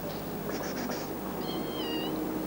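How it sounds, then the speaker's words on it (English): A kitten outdoors on a city street, giving a few faint, short high meows in a quick cluster followed by a slightly longer, thin mew, all quiet against a steady background hum. "a kitten"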